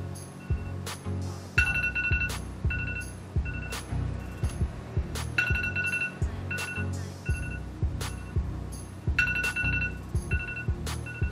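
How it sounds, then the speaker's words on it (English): An electronic alarm rings in repeated bursts of bright, pulsing tones, fairly loud and continuous without any talking. "that's my alarm"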